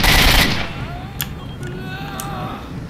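A loud burst of gunfire opens a moment in the video game S.T.A.L.K.E.R.: Shadow of Chernobyl, then fades into a few faint clicks and quieter game sounds.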